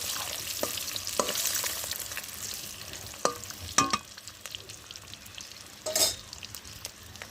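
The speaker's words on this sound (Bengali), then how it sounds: "আর বড়িটা ভেজে তুলে নিলাম।" Egg and lentil dumplings (bori) fry in hot oil with a steady close sizzle, broken by a few sharp scrapes and clatters of a spatula stirring in the pan. Nobody speaks.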